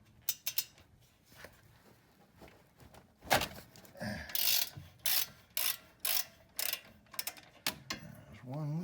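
A ratchet loosens the front brake caliper housing bolts on a 2009-13 Toyota Corolla, making quick bursts of sharp clicking that start and stop in repeated short runs, close up and fairly quiet.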